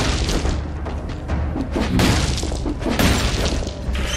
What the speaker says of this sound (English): Ice grenade.